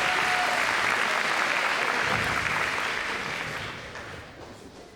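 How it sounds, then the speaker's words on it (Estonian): Audience applause at a ball host and hostess contest, dense steady clapping that holds strong and then gradually fades away over the last couple of seconds. "Suur aplaus."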